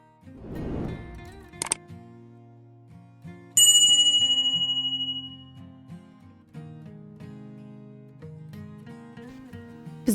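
A bright electronic notification bell chimes once with a long decaying ring, set among soft synth tones, with a short click-like burst at the start.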